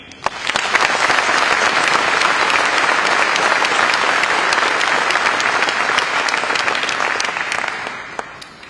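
Sustained audience applause at a mayor's New Year address in Cavalaire, a dense, steady wall of clapping rising in quickly, holding strong for several seconds and then fading slightly at the end.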